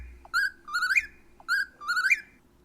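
A nocturnal forest bird calls at night in two repeated phrases, each a sharp whistled note followed by a rising, slurred whistle, clear and fairly close over a faint low background hum.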